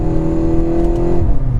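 A 2024 Volkswagen MK8 Golf GTI hatchback's engine hums steadily and close in sport mode, holding a tone and then dipping slightly near the end.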